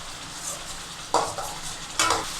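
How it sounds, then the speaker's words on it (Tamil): Tomato sauce being stirred in a pan for wheat veg pasta, a steady soft sizzle of thickening sauce with two louder scraping strokes of the spoon against the pan, close and alone. "அது வரைக்கும் விடாமல் கிளறிக்கிட்டே இருங்க."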